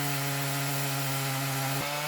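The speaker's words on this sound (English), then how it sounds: "Most of the chainsaw milling we do is out in the woods, but this log is right by the workshop" A chainsaw mills a log right beside a workshop, droning steadily at close range with a strong, even engine tone that dips briefly near the end, no voices over it.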